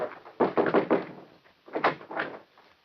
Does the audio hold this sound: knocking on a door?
yes